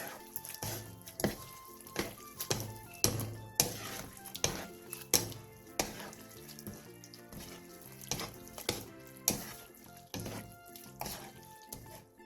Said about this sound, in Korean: 다 됐으면 불을 끈 뒤 참기름 반 스푼, 대파, 통깨를 넣고 가볍게 뒤적여 마무리해주세요.